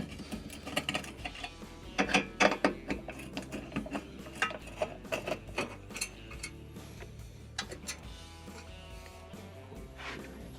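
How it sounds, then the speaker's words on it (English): Phillips screws being backed out of the mounting bracket on a Samsung stove's radiant cooktop, heard as close, quiet ticking and metallic clicks in an irregular series with occasional louder taps, without any talk. "remove the 2 Phillips screws that the mounting bracket is holding onto the cooktop with"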